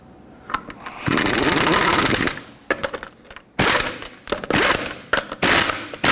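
Ratchet clicks and a rapid whirring drive turn the wheel lug nuts on a 1995-2004 Toyota Tacoma, in loud close bursts with short pauses between them and no talk.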